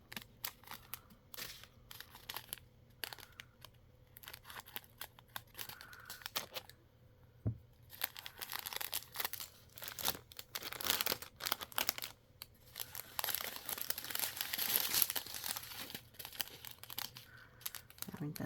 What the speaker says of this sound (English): I'm gonna go ahead and cut them apart though